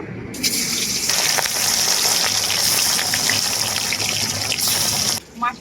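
Fish rubbed with salt and turmeric sizzles in hot oil, a loud steady hiss and crackle running almost unbroken before dipping briefly near the end.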